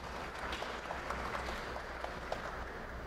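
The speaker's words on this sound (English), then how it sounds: "A round of applause, ladies and gentlemen." At a college prize day, an audience claps for someone receiving a token on stage. The applause is moderate, steady and slightly distant, with a few sharper individual claps standing out from the crowd.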